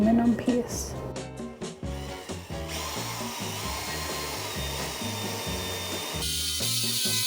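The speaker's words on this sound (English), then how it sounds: "Drilling through this aluminum is a little harder" A hand drill bores through an aluminum piece about half an inch from its end, a close, steady whirring grind with rhythmic pulsing and brief pauses, someone speaking over it.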